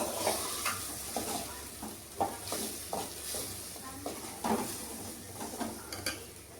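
Ground masala being stirred in a hot pan brings a soft sizzle under repeated scraping strokes of a spoon against the metal, in an uneven rhythm of scrapes and light knocks, fairly quiet overall.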